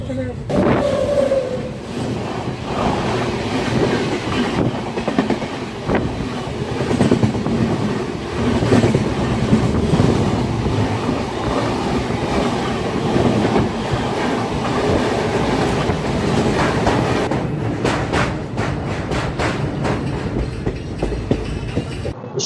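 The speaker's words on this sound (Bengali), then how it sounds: "ট্রেন আমাদের যতই বর্ধমান ছেড়ে বোলপুর শান্তিনিকেতনের দিকে যাচ্ছে" Kanchanjangha Express rolling on rails from Bardhaman toward Bolpur Shantiniketan, a steady loud rumble with faint clickety-clack of wheels throughout, heard from inside a carriage with occasional voices.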